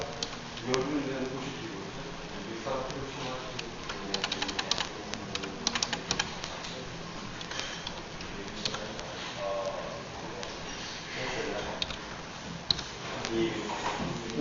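Rapid clicking of computer keyboard keys in bursts during Arduino serial programming, heard under a person talking steadily.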